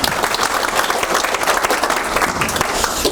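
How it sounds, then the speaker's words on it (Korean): Loud, dense applause from a conference audience at a KCERN forum on digital governance, continuous clapping from many people filling the room without letup. "박수 한번 주시면 좋습니다."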